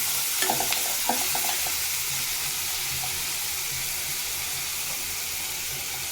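Food frying in a pan with garam masala powder stirred in for a Bengali home lunch, a steady close sizzle throughout with a few scraping stirs near the start, then continuous frying hiss alone.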